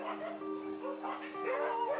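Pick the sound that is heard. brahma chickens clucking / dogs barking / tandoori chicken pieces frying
dogs barking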